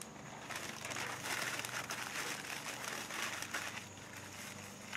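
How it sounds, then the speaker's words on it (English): Sheets of paper are crumpled and wadded to light a charcoal grill, a continuous close crinkling and rustling that fills the whole stretch without pause. "Wad up a couple of sheets of paper."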